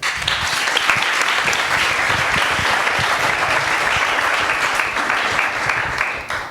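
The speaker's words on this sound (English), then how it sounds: "big round of applause for Vincent." A TEDx event audience in Vienna gives a sustained, loud round of applause that lasts several seconds and tapers off at the end.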